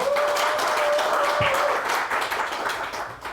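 A crowd claps steadily and enthusiastically throughout, dense applause that holds strong before easing slightly toward the end.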